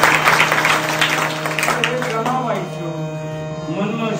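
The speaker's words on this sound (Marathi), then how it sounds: "टाळ्या वाजवाय का" An audience claps at a Hari Saptah kirtan in Chavanwadi, with a burst of applause that is loudest at the start and then fades under voices and lingering musical tones.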